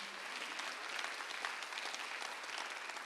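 A church congregation applauds during a Sunday worship service, a steady wash of many hands clapping close and full for the whole moment, with no voices over it.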